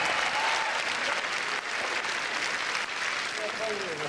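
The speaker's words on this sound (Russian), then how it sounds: "Аплодисменты." Audience applause fills a televised stage performance, dense and continuous at a steady level, with faint voices mixed in beneath the clapping.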